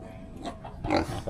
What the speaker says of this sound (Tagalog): Yung mga baboy natin.